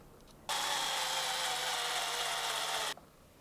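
A battery-powered drill bores through material in one loud, steady whirring burst of about two and a half seconds, close up, starting and stopping abruptly.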